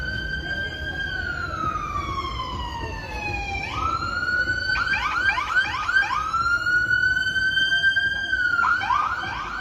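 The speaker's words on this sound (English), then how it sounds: "Different types of sirens." Sirens are switched on and off quickly, a loud wailing tone that sweeps down then jumps back up, with rapid chirping bursts and yelps cutting in and out while a voice talks faintly beneath.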